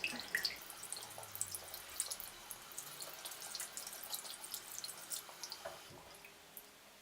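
Cold tap water runs into a sink while a makeup brush is rinsed under it, a soft steady splash broken by drips and small spatters, fairly quiet and close, with no talking.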